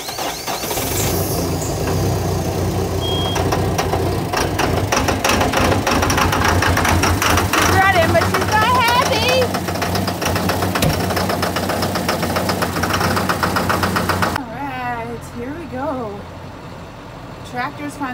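A tractor engine, not plugged in on a cold day, knocks and idles unevenly close by, with a voice speaking over it, before the clatter settles into a quieter, steadier idle.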